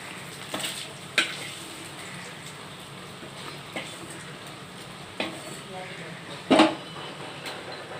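Oil sizzles and crackles steadily as fish fries, with occasional sharp clinks and scrapes of a utensil against the pan.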